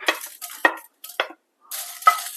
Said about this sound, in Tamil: சேப்பு மிளகா ஜீரகம் கொஞ்சோண்டு சின்ன வெங்காயம் கொஞ்சம் பூண்டு இது எல்லாத்தையும் அப்படியே போட்டு வதக்கி எடுத்துக்க வேண்டியதுதான்